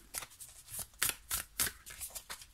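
Tarot cards being shuffled by hand, a rapid series of crisp riffling bursts close to the listener, with no voices.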